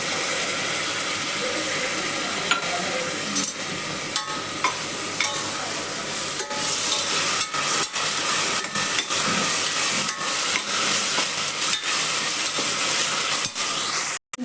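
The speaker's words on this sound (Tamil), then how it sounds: "இப்போ இது கூடவே இஞ்சி பூண்டு பேஸ்ட் போட்டுக்கலாம்." Ginger garlic paste sizzles loudly with browned onions in a pan, a dense crackling fry broken by repeated scraping stirs of a spoon, close and continuous with no speech.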